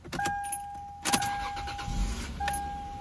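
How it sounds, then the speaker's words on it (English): A 2002 Lexus IS300 engine turns over and catches, settling into a low idle, with a faint electronic chime ringing steadily over it. "I'm gonna turn on the engine so you guys can, you know, hear it for yourselves"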